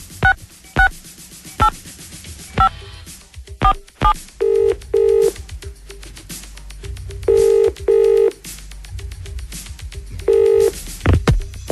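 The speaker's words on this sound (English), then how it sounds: "why don't I just call up a business now and see if we can talk to Mardy Arse." A telephone dials a business with a run of sharp touch-tone beeps, then rings with repeated paired electronic rings spaced evenly apart, clear and close on a radio broadcast.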